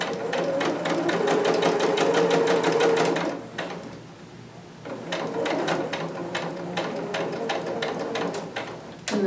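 A sewing machine back stitches a seam on a Vogue 2530 pattern piece, with two close, loud runs of rapid needle chatter separated by a brief quieter pause.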